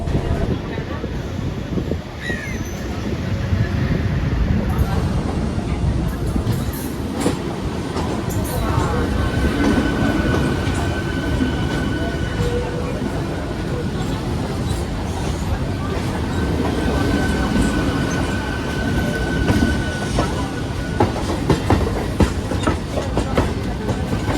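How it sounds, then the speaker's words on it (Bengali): Two trains roll into Howrah station with a steady, loud rumble of carriages and rail clatter and a thin squealing tone, while a person talks over the noise throughout. "দুটো ট্রেন এখন ঢুকছে"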